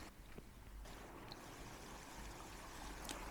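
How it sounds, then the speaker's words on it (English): Water runs down a hillside through small gullies along the Nakasendo Way in Japan, a faint, steady trickling and rushing wash that carries on throughout, with no voices. "There's water running all of the way down the hill in these little gullies."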